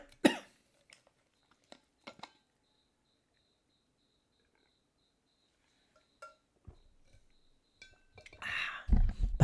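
Coughing from someone with a dust allergy, a sharp burst near the start and more coughs around two seconds, then rustling and a louder close cough-like burst at the end, with a faint insect-like chirp in the quiet stretch.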